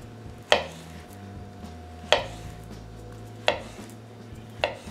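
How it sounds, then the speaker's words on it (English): A knife slices through jerk chicken on the bias on a cutting board, making four sharp, evenly spaced cuts that land firmly against the wood, with faint kitchen hum between strokes. "we're gonna also slice it on the bias"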